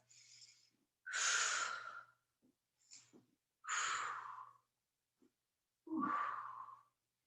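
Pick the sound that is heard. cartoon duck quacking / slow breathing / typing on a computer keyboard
slow breathing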